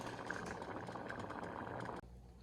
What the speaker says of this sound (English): This is the hot sauce just bubbling away.